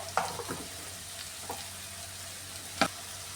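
Potatoes fry in a pan with shallots and turmeric, a faint steady sizzle broken by a few soft stirring scrapes, heard alone without speech.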